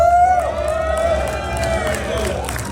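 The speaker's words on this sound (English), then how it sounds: "So I need to hear you guys cheering for this team." A live crowd at a PAX East 2025 Elden Ring Nightreign gameplay event cheers and whoops, with a loud, sustained voice riding over the mixed crowd noise.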